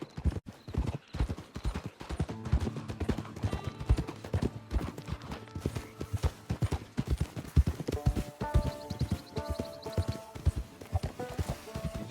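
Horse hooves clip-clop steadily in the Red Dead Redemption 2 video game, a close, continuous rhythmic trot with a brief whinny mixed in.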